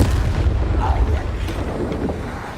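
A Bombarda explosion spell in Hogwarts Legacy rolls out as a loud, deep, sustained rumble that slowly fades over a couple of seconds.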